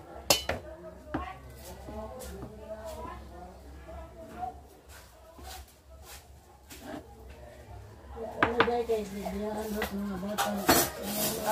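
Ingredients sautéed and mixed in a pan, metal utensils clinking and scraping in sharp bursts that grow busier near the end, with someone talking over much of it.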